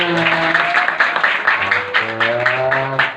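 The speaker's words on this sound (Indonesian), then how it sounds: "tepuk tangannya mana?" Children and adults at an orphanage gathering clap together in a steady patter after a Quran recitation, with voices calling and chattering over the clapping throughout.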